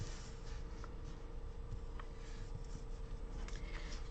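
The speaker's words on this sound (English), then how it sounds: "I think I'll take the same Mildliner and write here." A Mildliner highlighter scratches softly across a paper planner page in short strokes, quiet and close, over a faint steady hum.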